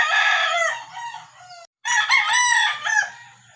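Pet chickens in a backyard coop in Cavite crow, with a rooster giving two loud, close cock-a-doodle-doo calls separated by a brief pause, faint clucking and low background noise beneath.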